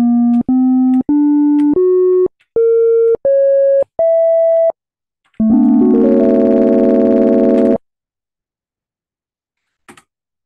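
A synthesized busy-signal-style tone plays as a rising sequence of short beeps stepping up in pitch, followed by one longer sustained buzzing tone, then silence broken by a faint click at the end.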